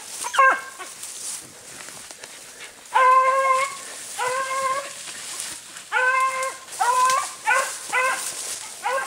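Beagle hounds bay while running a hare track, repeated drawn-out howls and yelps in overlapping bursts, some near and loud, others fainter, with short gaps between volleys.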